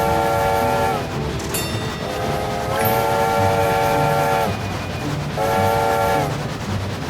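A train whistle in a railway video game blows three sustained tonal blasts over a steady loud rumble of rolling wheels and rail noise, each blast held for about a second or more.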